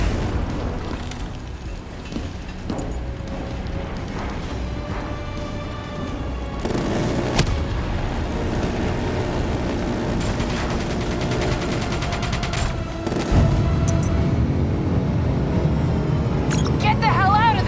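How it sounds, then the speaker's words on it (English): Missile strike explosions and heavy gunfire in the shooter game Black Ops III, with loud, dense booms and bursts of fire rolling continuously and several sharp blasts standing out. "Missiles incoming!"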